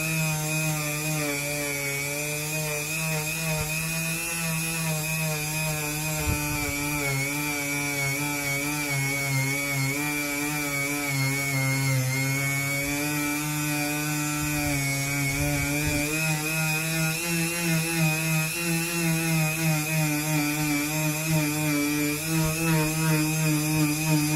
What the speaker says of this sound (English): Turn your Dremel on and rub that compound in.